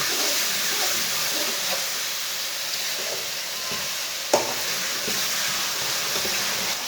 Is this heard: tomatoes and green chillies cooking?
yes